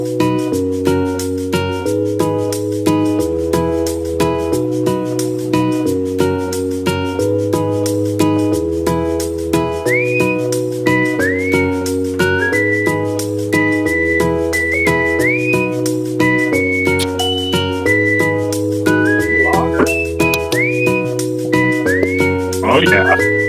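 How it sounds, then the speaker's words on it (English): Person whistling a melody during a show's outro over steady background music, with rising whistled slides recurring in the second half above the continuous tune. "Wait for the whistle."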